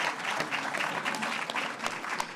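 An audience at the 45th Critics Circle Awards claps steadily in sustained applause, dense and even throughout, with no voices standing out.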